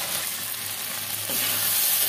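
Food fries in a pan with a steady sizzling hiss while it is stirred, the sizzle loud and continuous throughout with no talking.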